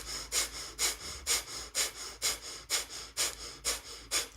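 Breath of fire yoga breathing: about nine rapid, forceful nasal exhalations in a steady rhythm, each a short airy puff, close and fairly quiet with no talk.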